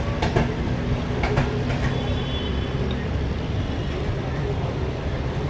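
The Shalimar Express rolls along the rails with a steady rumble and intermittent clicks and clanks from the carriage. A voice talks over the train noise.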